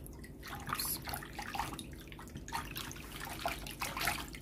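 Water poured into a bowl for samosa dough, a steady broadband splashing trickle lasting several seconds at moderate level with no talk.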